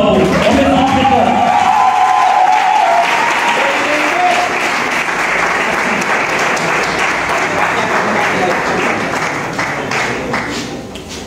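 Audience applause welcoming Jérémy Matamaro on a live arts broadcast, a dense, loud wash of clapping with some cheering, holding steady before tapering slightly at the end; voices are heard over the opening seconds.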